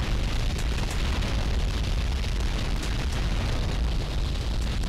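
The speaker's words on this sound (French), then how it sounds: "le son des explosions" Explosions in GTA Vice City Definitive Edition make a dense, continuous roar of booming blasts and crackle, loud and unbroken from start to finish, with no speech.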